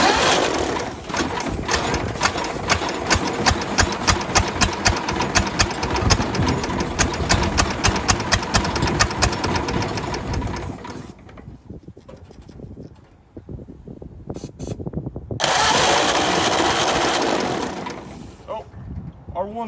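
A 1929 Ford Model A engine runs roughly on barely one firing cylinder, with loud uneven chugging that sputters out, goes quiet, then briefly catches again as people talk nearby.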